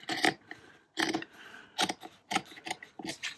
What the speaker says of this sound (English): I'm going to literally just cut around, and I'm going to leave a bit of space.